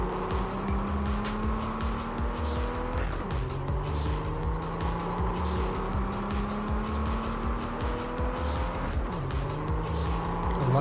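A car drives through the video game Cyberpunk 2077 with a steady, close engine drone that shifts pitch as it changes gear, plus occasional tire noise, with no one speaking.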